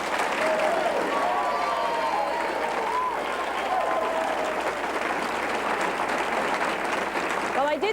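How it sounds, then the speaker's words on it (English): An audience at a 1993 New Jersey governor's debate applauds in a steady, dense wash of clapping that holds for several seconds, with a voice speaking faintly underneath. "I did say you could clap,"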